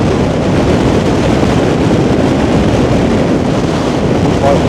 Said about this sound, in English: so feel the wind coming from inland going out.